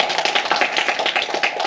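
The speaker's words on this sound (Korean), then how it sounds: "여러분 박수를 한번 쳐드리면" A small seminar audience claps briefly at the close of a brown-bag talk on political films, a short run of distinct, fairly close hand claps.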